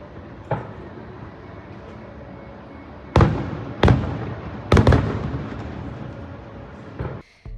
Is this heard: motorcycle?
no